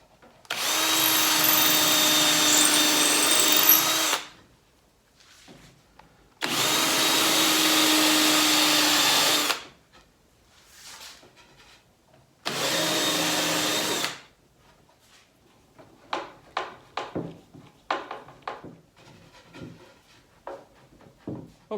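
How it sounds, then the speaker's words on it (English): A power drill runs in three long bursts, driving a screw through the back of a table made from hundred-year-old elm, followed by lighter scattered knocks and handling clatter. "What I can do now is put the screw through the back, which is what I think I shall do at this point."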